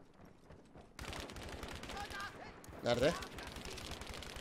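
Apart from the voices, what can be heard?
machine gun fire in the video game Battlefield 5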